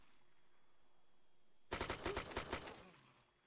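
Rapid burst of automatic gunfire from a multiplayer shooting game, a dozen or so sharp cracks in quick succession after a quiet stretch, fairly close and tailing off into a faint echo.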